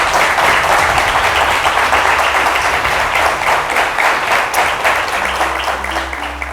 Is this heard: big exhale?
no